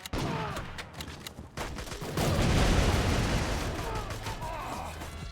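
A grenade blast in the video game Total Overdose, a loud, sustained rumbling explosion swelling after scattered gunfire bursts and continuing amid crackling debris and shots.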